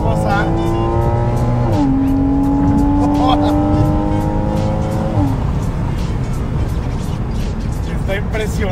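A loud Porsche sports car engine drops pitch in quick downshifts, each one a sudden jump in the note, then eases off into steady driving noise.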